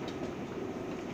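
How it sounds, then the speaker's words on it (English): An R188 subway car on the 7 Express line rumbles steadily along the track, a continuous faint low roar with no voices. "This is the Flushing Main Street bound 7 Express train."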